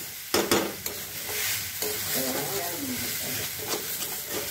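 Grated carrot stirred in a pan of ghee for carrot halwa, a steady scraping and sizzling hiss with a few sharper utensil knocks near the start, close and continuous.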